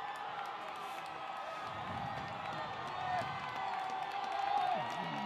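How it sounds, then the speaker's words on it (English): A high school football crowd at Harrison versus Pulaski Academy roars steadily in the distance, the cheering swelling louder near the end while a voice talks over it. "Goblin crowd getting a little loud over there"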